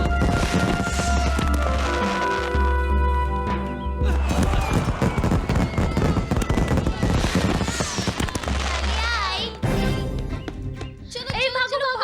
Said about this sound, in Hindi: जलता हुआ फटाका फेंका तूने मुझ पर।